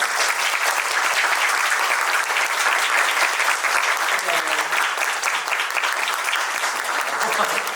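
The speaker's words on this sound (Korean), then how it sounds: "자, 그럼 이제 올리버와 클레어를 무대 위로 모셔볼게요. 한 박수 부탁드려요." A theater audience claps steadily at a Korean musical's curtain-call stage greeting, dense sustained applause from a large crowd welcoming performers onstage.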